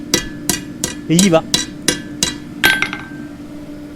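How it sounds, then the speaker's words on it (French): A blacksmith's hammer strikes red-hot metal eight times at a steady, slightly uneven pace, with sharp ringing clinks close up. Someone speaks French briefly between blows. "Sans frapper sur l'enclume, je tape sur le métal rouge qui puisse se centrer."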